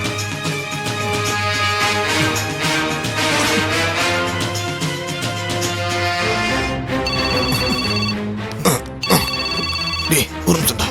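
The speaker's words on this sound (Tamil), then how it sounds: "டேய் அண்ணா தான்டா ஃபோன் பண்றா" A mobile phone rings in a Tamil television drama scene, its ringtone repeating loudly over background music with speech around it.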